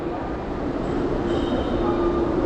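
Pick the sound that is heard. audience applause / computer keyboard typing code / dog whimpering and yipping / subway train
subway train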